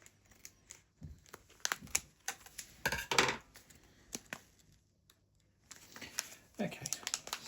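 A plastic bag of model railway ballast crinkles and rustles as scissors snip it open, giving irregular crackly bursts at close range, soft overall, with short pauses between.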